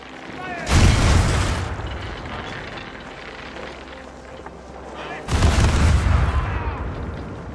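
A ship's broadside cannons fire in the pirate game Caribbean Legend, two heavy booming volleys about four and a half seconds apart. Each hits close and loud, then rumbles away into a low, lingering tail.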